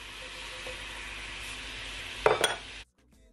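Seasoning being stirred into homemade coleslaw dressing: a steady, soft scraping and swishing, a brief louder clatter near the end, then an abrupt stop.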